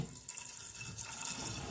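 Water is poured in a short, steady splashing stream into a pressure cooker holding broad bean seeds, close and fairly soft, with no talk.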